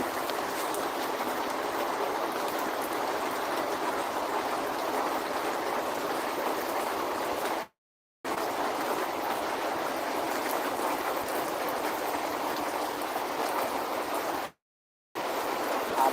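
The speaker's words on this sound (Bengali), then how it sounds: "প্রচুর পরিমাণে বৃষ্টি হচ্ছে" Heavy rain pours in a dense, constant wash of noise with large drops, steady and loud throughout, broken by two brief silent gaps, no voices.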